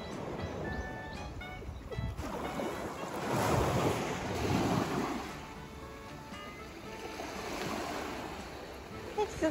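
Ocean surf on a beach during a downpour, waves washing in steadily with wind buffeting the microphone and swelling louder mid-way, while people talk and exclaim over it.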